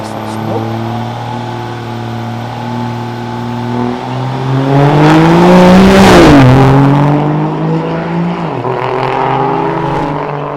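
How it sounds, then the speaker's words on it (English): A diesel truck launches at a drag race, its spooled-up engine rising into a loud, swelling roar that peaks and passes, then a second gear-change surge, with crowd or announcer sound faintly underneath. "At the start, got it spooled up, blowing that diesel smoke."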